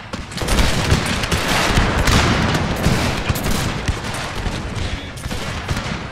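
Dense musket volley fire crackles through a Total War battle set in the Thirty Years' War, with Habsburg troops firing in sustained, overlapping rolling bursts that stay loud and steady throughout.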